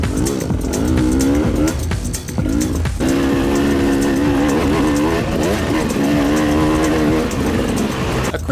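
Honda RR300 enduro dirt bike climbing a hill, its engine revving hard and loud throughout, pitch rising and falling as the rider works the throttle.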